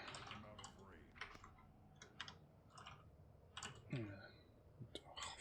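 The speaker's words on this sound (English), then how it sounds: "fuck's sake, stupid keyboard." Computer keyboard typed on during a gaming stream, scattered bursts of quiet clicking keys in uneven clusters, close but faint, with a voice murmuring briefly among them.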